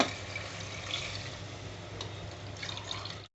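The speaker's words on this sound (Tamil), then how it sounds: "நாலு டம்ளர் நான் ஊற்றிக்கிறேன் தண்ணி" Four tumblers of water poured into a cooking pot for chicken biryani, a soft continuous splashing trickle, faint and close, with no talk.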